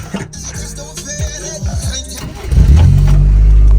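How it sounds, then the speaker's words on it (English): A 1994 Toyota Corolla engine cranks with a few starter pulses, then catches and settles into a loud, steady idle close by. "Let me start the car to show you how it's gonna be."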